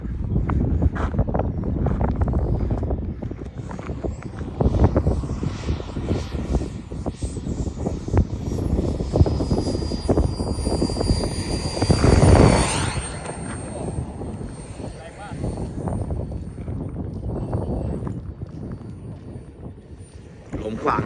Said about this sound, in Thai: บินโดยพี่อะไรครับพี่เกรดครับ